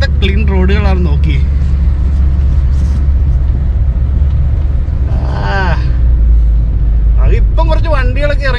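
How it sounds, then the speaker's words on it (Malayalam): Cars drive along a Dubai road after lockdown, giving a constant deep engine-and-tyre rumble beneath a voice that talks over most of the stretch. "ഇപ്പം കുറച്ച് വണ്ടികളൊക്കെ ഇറങ്ങിയിട്ടുണ്ട് കേട്ടോ."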